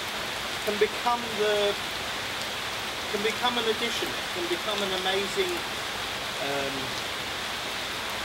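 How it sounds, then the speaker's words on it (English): Monsoon rain falls steadily outdoors as a broad, even hiss of drops on surfaces, continuous throughout while a person talks over it at moderate level. "But actually the rain is wonderful"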